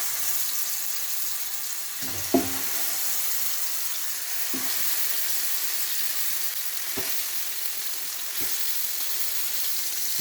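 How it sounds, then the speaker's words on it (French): Pieces of food frying in a hot pan to brown on all sides, a steady close sizzle with a few soft knocks and scrapes as they are placed and turned. "Et on va venir les faire dorer de tous les côtés"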